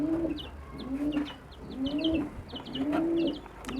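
Pigeons in a loft give repeated soft, low cooing phrases in a steady rhythm, with faint chirps and small rustles around them and no voices.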